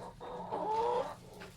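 Black Australorp chickens clucking close by, a short run of throaty clucks swelling in the middle, with no talking.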